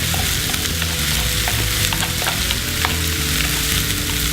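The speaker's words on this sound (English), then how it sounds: "This is the cauliflower rice mix. Drop it right in there." Cauliflower rice mix frying in clarified butter, a loud continuous sizzle and crackle with scattered pops and stirring scrapes, close up and with no voices.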